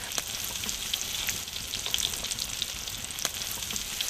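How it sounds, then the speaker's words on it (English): Close, steady sizzling and crackling of fish frying over a coal bed, with small pops scattered throughout and no voices. "you can see that everything is sizzling nice"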